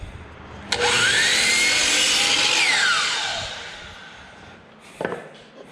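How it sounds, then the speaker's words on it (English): A power saw trims a small piece of wood for a box mantel, a single cut that whines loudly for about two seconds, its pitch rising then falling as it finishes, followed by a quieter clatter. "So we're going to go ahead and trim it just a teeny bit."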